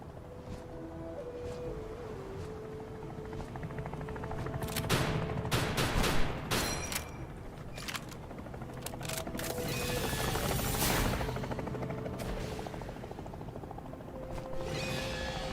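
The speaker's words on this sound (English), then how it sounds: "Guys are flying around in an Apache helicopter here." An Apache attack helicopter in Palworld fires bursts of gunfire over a steady rotor and engine drone, with loud rapid volleys crackling in the middle and toward the end.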